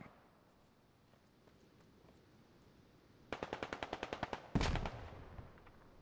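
Video game gunfire crackles in a rapid burst of a dozen evenly spaced automatic shots, followed by a louder heavy blast with a decaying tail, over a faint background.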